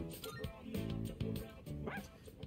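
Koromaru, the dog in Persona 3 Reload, gives several short barks and yips in quick succession, with a rising whimper near the end, over game sounds and a voice.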